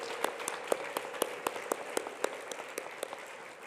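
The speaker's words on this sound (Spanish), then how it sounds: "un fuerte aplauso para ella" A small university assembly audience applauding a colleague on her birthday, with a few distinct, evenly spaced claps standing out over a softer clapping wash, fairly close and moderate in volume.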